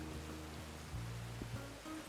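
Rain falls in the RedM roleplay version of Red Dead Redemption 2, a faint, steady wash of hiss with low tonal hum and music-like tones underneath.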